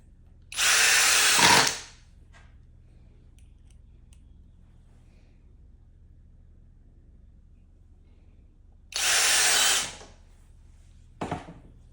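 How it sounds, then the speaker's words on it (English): A power drill drives a screw into a hinge on DIY shelving, two short, loud whirring bursts a few seconds apart with a quiet pause between and a brief click at the end. "And then we're just gonna put that second screw in."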